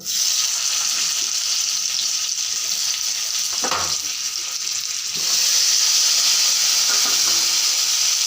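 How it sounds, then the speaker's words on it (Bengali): Potatoes fry in oil left from frying pointed gourd, a steady loud sizzle that runs throughout and swells louder toward the end, with brief stirring clatter in the pan. "যে পটল ভাজার তেলে আলুগুলোকে ভাজা করে নেব আগে।"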